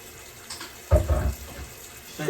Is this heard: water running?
yes